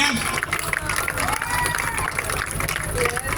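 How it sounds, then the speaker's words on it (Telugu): Crowd at an outdoor Vinayaka laddu auction at Sky Park, Yendada, Visakhapatnam, giving loud, dense, continuous applause with cheering, while a voice talks over it. "Big round of applause. Claps."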